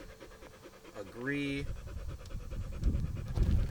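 A dog pants heavily in quick, rasping breaths during the setup of a DJI Mini 2 drone. A rising electronic tone from the drone sounds partway through, and a person talks nearby.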